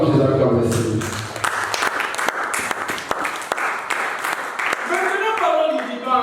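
A church congregation claps and cheers in acclaim of Jesus, a dense, loud burst of applause mixed with voices, tapering as a preacher's speech resumes.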